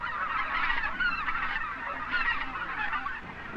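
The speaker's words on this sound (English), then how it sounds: "There's geese coming." A flock of geese honks continuously overhead during a 1960s waterfowl hunt, their layered calls dense and fairly loud with no talking.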